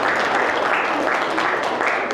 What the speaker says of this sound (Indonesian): Oke, tepuk tangan untuk Mbak Keisha.